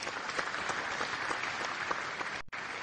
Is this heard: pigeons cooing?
no